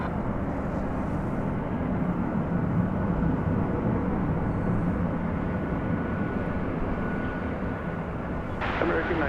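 Jet aircraft at DFW Airport at night, a loud continuous low roar of engines rumbling steadily throughout, with a faint tonal whine and a brief rustle near the end.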